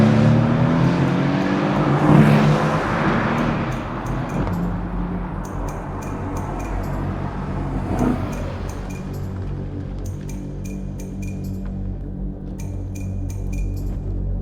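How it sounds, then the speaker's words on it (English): Mercedes C63 with its 4-litre engine accelerating, exhaust roaring up through a rev sweep then settling into a steady drone, heard from inside the car with rattly ticking sounds layered over it. "You could probably listen to that exhaust noise while I drive,"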